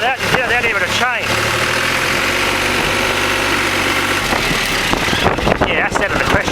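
A vehicle engine idles in low gear, a loud, steady mid-pitched rumble whose pitch sweeps up and down as it revs and settles, running continuously throughout.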